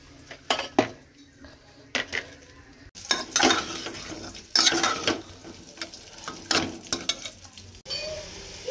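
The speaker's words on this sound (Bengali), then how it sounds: "এখানে বেগুন ভাজা হচ্ছে" Eggplant slices frying in hot oil in a home kitchen, a steady sizzle broken by repeated scrapes and clinks of a spatula against the pan, close and moderately loud with no talking.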